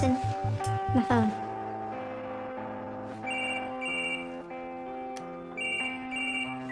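A mobile phone rings with a repeating electronic ringtone melody, loud and close. A bright, tonal jingle opens the sequence, then the ring continues in a steady pattern of bursts.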